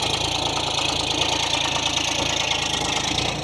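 John Deere and Mahindra tractor diesel engines idle together in a steady, loud, even rumble with a fast knocking pulse throughout, no voices over it.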